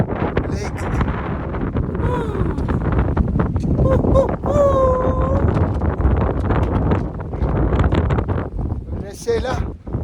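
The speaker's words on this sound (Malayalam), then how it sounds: "നല്ല കാറ്റുണ്ട്." Strong wind buffets the microphone on Kongma La pass at 5,535 metres on the Everest trek, roaring loud and unbroken while someone talks over it.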